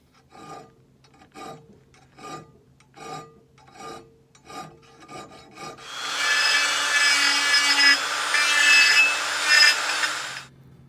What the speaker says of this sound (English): with a round file and file my way up to make sure we have a really nice radiused edge